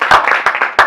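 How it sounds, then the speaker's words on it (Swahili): Brief burst of clapping from a group at a church fellowship gathering, about a second of dense applause with no voices. "Reke tũcokerie Ngai ngatho na makofi"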